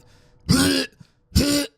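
A person imitates a dog coughing up a hairball with two loud, raspy hacking bursts separated by a short pause.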